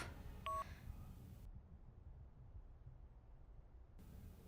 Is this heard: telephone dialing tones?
yes